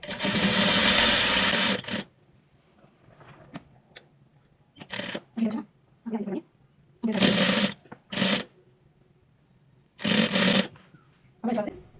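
A sewing machine stitches saree fabric in short bursts: a long loud whir at first, then several brief runs separated by quiet gaps, heard close and alone.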